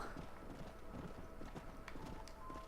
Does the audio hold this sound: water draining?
no